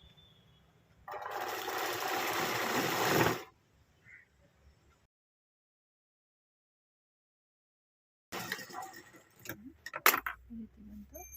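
A sewing machine stitches a fabric frill, a steady loud mechanical whir for a couple of seconds, then quiet, followed by a second burst of running and handling noises nearby.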